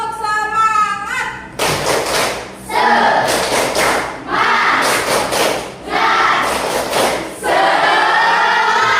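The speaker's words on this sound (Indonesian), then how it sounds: "Tepuk semangat." A classroom of students claps the rhythmic 'tepuk semangat' spirit clap in loud, close bursts of quick hand claps, several rounds separated by short pauses, with voices chanting along.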